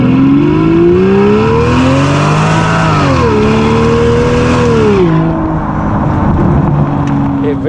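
A straight-piped V12 limousine engine revs loudly and close, its rough harmonic note rising and falling through several revs before dropping away at the end, with some talk underneath.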